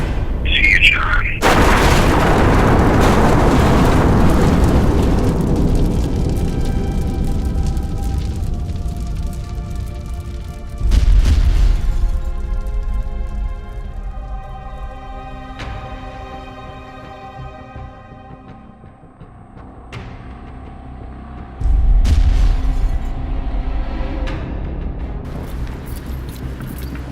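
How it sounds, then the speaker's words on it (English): A loud explosion in a short film: a sudden heavy blast that rolls off in a long rumbling decay, followed by two more deep booms spaced several seconds apart. "There was an explosion!"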